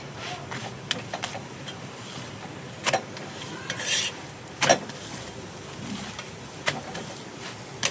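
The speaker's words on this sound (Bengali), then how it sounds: "এখানে ভাজা হচ্ছে, দুটো একসাথে করেই ভেজে দিচ্ছি।" Two parathas fry together in a pan at home, a low steady sizzle beneath intermittent scrapes and clinks of a spatula or utensil against the metal, close and moderately loud.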